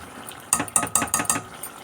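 A spoon stirs spice paste into hot oil in a metal pan for a meat gravy, making five quick, evenly spaced clinks and scrapes close up, with no talking.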